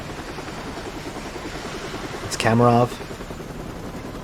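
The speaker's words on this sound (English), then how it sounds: "Another helicopter is seen above." Steady rhythmic thrum of a hovering helicopter in Call of Duty Modern Warfare Remastered, a constant low beating drone with a brief spoken line cutting in partway through.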